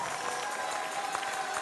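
An audience at the Bocuse d'Or 2013 prize ceremony applauds the sponsors, a steady wash of crowd clapping over a low background hum, with no talk on top.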